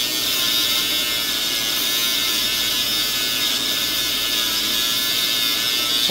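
An Orion welder electrode is turned against a grinding wheel, held at a steep angle to sharpen it to a point, giving a steady, close, high-pitched whirring grind that runs unbroken and alone.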